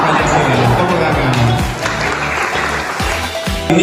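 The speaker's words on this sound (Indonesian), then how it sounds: "Tepuk tangan." A room full of people at a school outreach session on preventing radicalism and bullying breaks into loud, sustained clapping, close and dense throughout.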